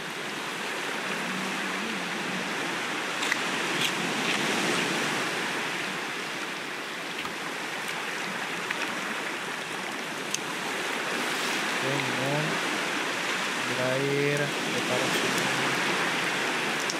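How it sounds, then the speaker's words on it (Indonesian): Ocean waves in the survival game Raft wash steadily in a broad, continuous surf roar, with a few brief tonal game sounds near the end. "ombaknya besar banget"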